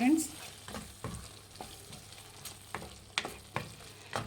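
Chicken liver fry with coriander leaves stirred in a pan, a low steady sizzle broken by several distinct scraping strokes at irregular intervals, close and moderately loud.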